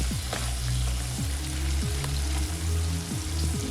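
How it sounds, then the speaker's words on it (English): Mushrooms frying and being stirred in a pot for a curry lamb stew: a steady loud sizzle with the spoon scraping and sweeping through the pan several times, close up, with no talk. "I'm just stirring the mushrooms up in here"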